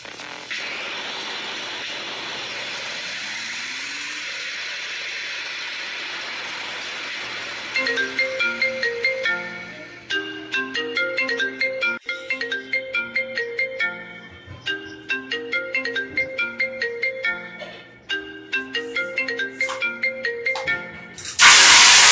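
A mobile phone ringtone melody plays over and over, unanswered, loud and close, following a quiet hissy stretch at the start before the ringing begins.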